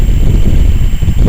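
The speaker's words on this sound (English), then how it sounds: "we're very sorry for the wind" Strong wind buffets the microphone at a cemetery at night, a loud, steady low rumbling roar with gusty fluctuations and no voices.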